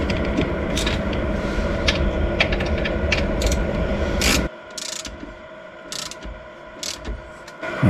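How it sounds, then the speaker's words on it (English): An 11mm socket on a ratchet tightens a brake bolt on a Honda CRX Si during a Wilwood big brake install, making loud steady mechanical clicking that thins into sparser ratchet ticks near the end, with no talk. "And this is a 11mm socket."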